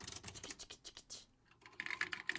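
Keys clack on vintage Apple II computer keyboards in quick uneven bursts, close and fairly soft, with a short pause before a faster flurry of keystrokes.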